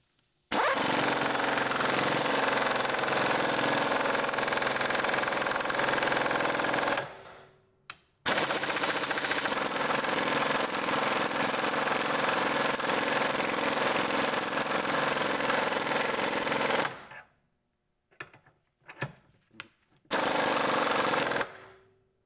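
A Milwaukee cordless impact wrench hammers loudly on a bolt in a long continuous burst of rapid rattling impacts, stops briefly, runs again for about nine seconds, then gives a few short bursts and one final run.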